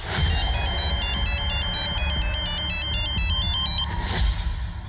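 A phone ringtone plays a repeating electronic melody, loud and close, looping steadily over a low background rumble.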